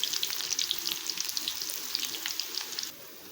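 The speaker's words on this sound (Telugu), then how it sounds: "కొంచెం ఆవాలు, జీలకర్ర వేసుకుందాం. అలాగే ఉల్లిపాయలు కట్ చేసుకున్నాం కదా, అది కూడా వేసుకుందాం." Mustard seeds, cumin and chopped onions fry in hot oil with a steady, dense crackling sizzle and scattered pops, close and continuous, dropping slightly in level near the end, with no talking.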